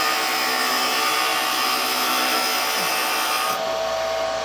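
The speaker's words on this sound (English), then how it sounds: "the wood is sliding across the sharp at an angle, and now you can see it's burnishing the wood too because I'm rubbing the bevel" A wood turning tool cuts on a lathe, its bevel rubbing and burnishing the spinning wood while curly shavings come off. It gives a steady, loud broadband hiss and scrape that runs without a break and drops off a little near the end, with no talk.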